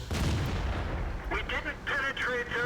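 A tank cannon in World of Tanks fires a premium shell, a loud booming report followed by ringing battle noise and scattered impacts, with a voice talking over it.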